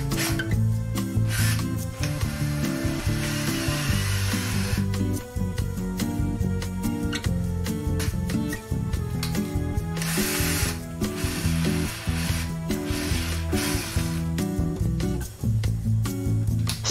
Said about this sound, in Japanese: 下穴を開けたら、電動ドリルを使って下穴を広げます。